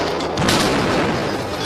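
Firecrackers blasting inside a brass trombone mute, a loud booming burst with a sharp crack over a dense, noisy roar.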